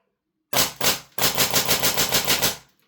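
HPA-powered Silverback MDRX airsoft rifle shooting on semi-auto, one sharp close shot followed after a brief pause by a quick string of about ten evenly spaced loud pops, then silence.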